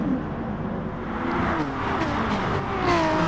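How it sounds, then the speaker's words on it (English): Race cars roar through a bus chicane on a Dragon Trail circuit, a steady loud engine drone with shifting revs and gear changes heard close from on board, several cars passing nearby. "as they all come through the bus chicane here."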